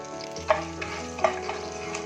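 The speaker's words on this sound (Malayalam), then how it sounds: "ആ എണ്ണയിലേക്ക് തന്നെ 2 ഏലക്ക, 2 ഗ്രാമ്പു, ചെറിയ 2 പീസ് കറുവപ്പട്ട, 1 ടീസ്പൂൺ പെരുംജീരകം, ഇതും കൂടെ നമുക്കൊന്ന് വഴറ്റിയെടുക്കാം." Whole spices, cardamom pods, cloves, small cinnamon pieces and fennel seeds, sautéing in hot oil for an ash gourd masala curry, a steady close sizzle with two sharper crackling stirs or pops and no talking.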